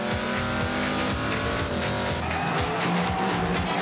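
Race cars at the 1992 New Zealand Teams nationals duelling on track, with loud continuous engine roar and repeated revving sweeps as cars pass close, thick with crowd and track noise, no talk heard.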